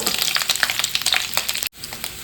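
Chopped ivy gourd sizzles and crackles in hot oil in a pan, a dense steady fry with stirring scrapes, broken by a brief silence near the end before the sizzle resumes.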